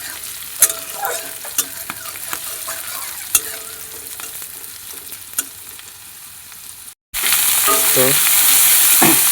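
Eggs frying in a pan for homemade chow mein, with scattered spatula clinks and scrapes over a quiet crackle, then after a brief gap a loud continuous sizzle with stirring. A voice speaks briefly.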